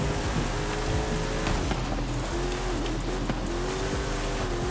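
Engine of the RTR Brocky Ultra4 Bronco off-road buggy in the Forza racing game, a steady loud drone with rising and falling pitch as it accelerates and shifts, plus brief tire or impact noises.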